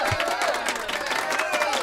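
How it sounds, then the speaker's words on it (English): Applause and cheering from school staff gathered to celebrate a colleague's achievement, a steady wash of clapping mixed with excited voices, close and fairly loud throughout. "We're applauding Alma Varela"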